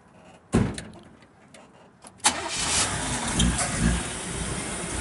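A 1948 Chevrolet 3100 pickup cranks over with a sharp thump and a brief churn, then catches and settles into a rough, steady idle, close by with no talking.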